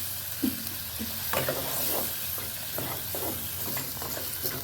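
Sardine fry being stirred with milk in a pan, giving a steady run of soft scraping strokes over a continuous low sizzle, close and moderately loud with no talk.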